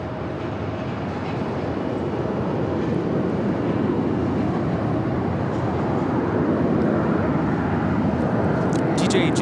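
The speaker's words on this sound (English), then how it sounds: "Southwest Airlines 3800 coming in from Seattle on the 737-800" Southwest Airlines Boeing 737-800 arriving at Phoenix Sky Harbor produces a steady, moderate jet rumble that swells gradually toward the end, heard at a distance under people talking.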